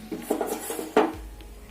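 A metal cooking pot is picked up and set down in a home kitchen before making hair oil, giving a few soft knocks and one brighter clank near the middle, close and brief.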